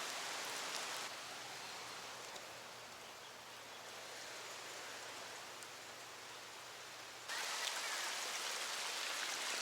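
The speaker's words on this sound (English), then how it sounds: "Talk about rain and water and precipitation and moisture." Rain and running water in Hilo, Hawaii form a soft, even hiss, faint and continuous, with the wash growing slightly brighter and louder toward the end.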